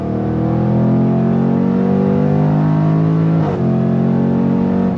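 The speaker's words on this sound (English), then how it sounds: "I'm gonna use the paddles and shift through the gears." 2025 Jaguar F-Pace SVR 575 Edition engine accelerating hard, heard loud and close as a rising roar with one quick dip and recovery as the paddle shifter clicks into the next gear, then the pitch climbs again.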